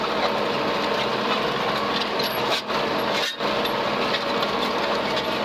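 A Ford 7710 tractor pulls an Allis Chalmers disk through a field, giving a steady, loud broadband engine and soil-working roar with two brief dips.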